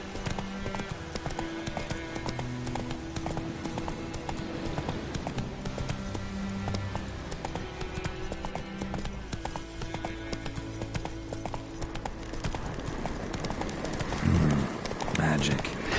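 A horse gallops in The Witcher 3 video game, rhythmic hoofbeats clip-clopping steadily throughout beneath game music and ambient sound, with a brief louder burst near the end.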